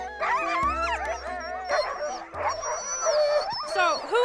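A pack of sled dogs yelps, howls and barks eagerly in a dense overlapping chorus, loud and close, with excited whimpers and yips running throughout.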